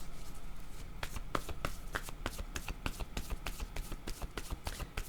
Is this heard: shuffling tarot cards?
yes